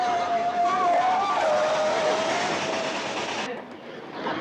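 An approaching locomotive rumbles loudly close by, with a sustained whistling tone over the roar before the noise abruptly drops.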